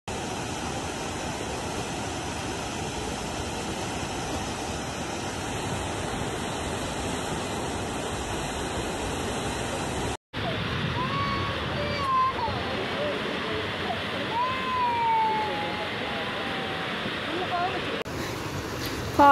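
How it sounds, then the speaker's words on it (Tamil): A waterfall in Ooty roars as a steady, dense wash of rushing water that continues throughout, heard up close, with a brief cut midway. "ஒரு வழியாக 50 படி இறங்கி ஃபால்ஸ் பார்க்க வந்துட்டோம்."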